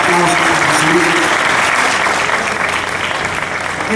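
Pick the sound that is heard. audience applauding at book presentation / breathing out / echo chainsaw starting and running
audience applauding at book presentation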